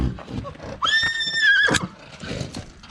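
A horse gives a clear, shrill neigh lasting under a second at a Ukrainian horse sale, set against outdoor background noise and faint movement.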